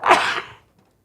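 A single short sneeze aboard a charter boat, a sharp breathy burst that fades quickly into quiet.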